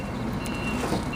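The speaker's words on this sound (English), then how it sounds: "my brother's just gonna back up the truck a little" Truck backing up at a scrap metal job: a steady high backup beep sits over the low rumble of the running engine, moderately loud and continuous, with no speech.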